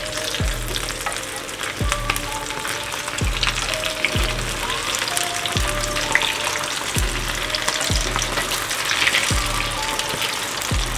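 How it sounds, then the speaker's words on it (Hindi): Sabudana aloo tikki sizzling and crackling in hot oil in a pan, a steady dense frying hiss with periodic soft thumps as the patties are nudged or turned, no voices. "और इसको यहाँ से हम फ्राई कर लेते हैं।"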